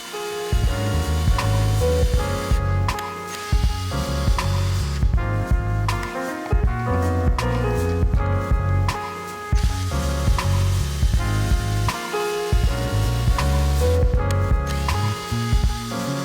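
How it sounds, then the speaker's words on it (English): Pocket holes drilled into 1x3 wood boards: a loud, continuous power-drill whir with repeated bursts and brief pauses between holes, no voices. "I'm gonna do a pair of pocket holes at the end of each 1x3 board"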